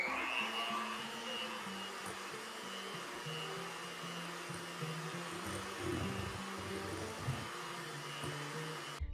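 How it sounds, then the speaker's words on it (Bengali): An electric beater whips dahi vada batter with a steady, faint motor whine and a continuous buzz, while the blades churn unevenly against the bowl. "আমি অনেকবার পরীক্ষা করে দেখেছি এই বিটার দিয়ে বিট করলে দই বড়ার যা মজা নরম তুলতুলে হয়"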